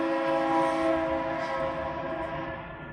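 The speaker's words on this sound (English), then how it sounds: "Sorry, in Dallas, you're gonna hear a train." A train passes in Dallas, with a sustained, steady horn-like tone over a low rumble that fades slightly toward the end, heard from a moderate distance.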